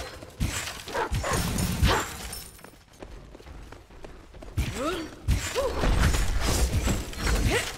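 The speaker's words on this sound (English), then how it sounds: "Barking, or am I hearing things?" A dog barks and whimpers in short bursts among busy mechanical game effects in the video game Smite, fairly close and loud.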